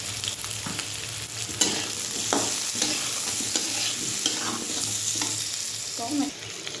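Coriander and cumin powder frying in a pan, a continuous close hiss with scattered soft stirring scrapes and light pops, no talking.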